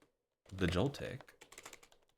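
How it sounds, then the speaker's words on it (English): Rapid computer keyboard typing clatters in a quick, irregular stream of clicks close by, with a person speaking over the first part during a Pokémon White game stream. "I love the sound of the keyboard getting to it."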